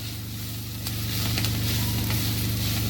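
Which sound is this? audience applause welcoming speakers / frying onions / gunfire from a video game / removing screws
frying onions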